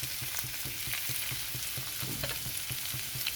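Potato and papaya pieces fry in oil in a pan with a steady, close crackling sizzle, and rhythmic stirring scrapes sound at an even pace throughout, with no talking.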